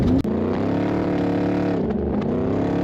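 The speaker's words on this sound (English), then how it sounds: "I could watch the whole race just listening to these trucks like this." A class 6100 off-road race truck at the NORRA Baja race passing close by, its engine a loud, steady, throaty roar with a brief dip in pitch as it goes past, heard alone.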